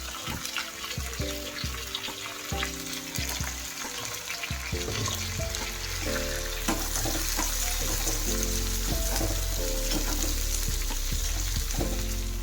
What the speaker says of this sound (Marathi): हे उभे चिरलेले कांदे घालून मी छान परतून घेणार आहे।